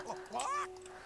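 A chicken in the World of Warcraft video game gives a short, nasal, honking squawk about a second long, near and fairly loud, with a thin steady tone running underneath.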